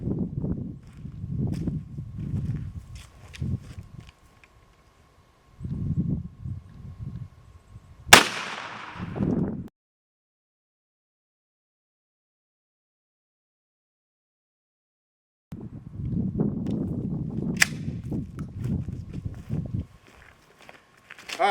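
A 12 gauge shotgun fires Winchester 00 buckshot from a 2 3/4 inch shell and No. 6 birdshot at a piece of wood outdoors. One sharp, loud blast comes midway, followed by silence, then a second crack arrives later amid shuffling and handling noises.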